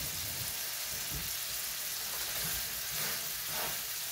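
Homemade hamburger patties frying in a pan, giving a steady, moderately loud sizzle with faint low bumps underneath.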